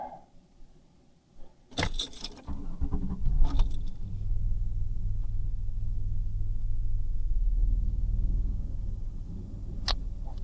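A 1993 Ford Taurus, being checked for a no-start and low-power fault, cranks briefly amid a few clattering knocks, then settles into a low steady idle rumble that continues, with faint ticking and no talking.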